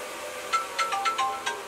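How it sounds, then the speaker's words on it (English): A telephone ringtone chirps in a quick run of about six short electronic beeps, moderately close, with no talk over it. "I'm just going to let that ring. It's a spam."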